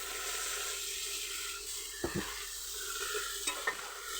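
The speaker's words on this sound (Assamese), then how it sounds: "এতিয়া আৰু মই কলডিল আৰু আলুৰ লগতে মিহলাই ল'ম" Sliced banana flower and potatoes stirred in a pan over a soft continuous sizzle, with a few sharp spatula scrapes and knocks against the metal, quiet and close.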